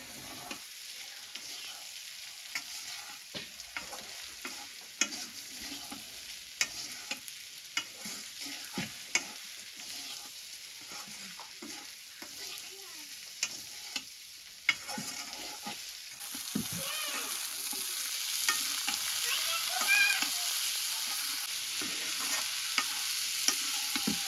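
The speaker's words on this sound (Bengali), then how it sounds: "মাছটা দিয়ে একটু ভাজা ভাজা করার লাগে" Fish fries in a pan for a village-style curry, with scraping stirs of a utensil and a soft sizzle that swells louder and steadier toward the end.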